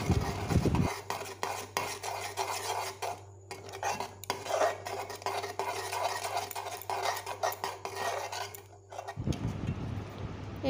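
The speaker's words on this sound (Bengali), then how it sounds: "তো এই অবস্থা দিয়ে দিচ্ছি চিনি, তো চিনিটা দিয়ে একটু নাড়াচাড়া করেই নামিয়ে নেব" Spoon scraping and stirring cooked oats with sugar in a pot, a soft rhythmic rasp with metal clinks, quiet and close.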